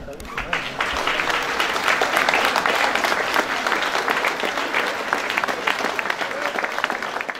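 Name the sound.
applause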